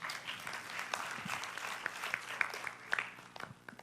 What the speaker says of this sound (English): And we can applaud Vision 2020.